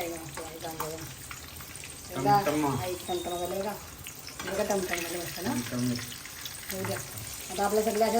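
Chamti puffs up as it deep-fries in hot oil, giving a continuous low sizzle that runs under near-constant conversation in a home kitchen.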